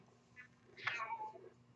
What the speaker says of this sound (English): My cat's making an entrance. You could probably hear him.